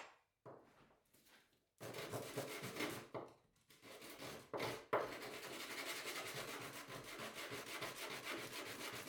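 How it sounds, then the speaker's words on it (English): Rough back-and-forth rubbing of sandpaper on a wooden custom knife handle, close and scratchy, starting in short broken bursts and then settling into a steady continuous sanding stroke. "I'm just going to switch to sandpaper."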